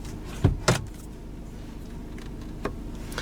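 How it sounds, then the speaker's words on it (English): The steering column adjustment handle in a 2015 Volkswagen Golf GTD Mk7 cabin gives two close mechanical clunks in quick succession, followed later by a fainter click against a quiet interior hum. "you can adjust the rake and reach just by pulling down this handle"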